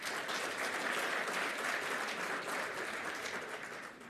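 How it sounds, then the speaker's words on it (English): An audience at an African hydrogen summit gives a sustained round of applause, a steady, even patter of many hands that holds for several seconds at a moderate distance, with no talking. "Shall we please give him a massive round of applause?"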